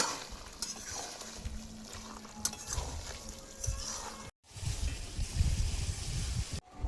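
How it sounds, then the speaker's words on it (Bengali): Tomato frying in a pan on a wood-fired clay stove, a steady soft sizzle and bubbling hiss up close with occasional stirring scrapes, one brief cutout midway. "টমেটোটা দিয়ে এবার কষাবো"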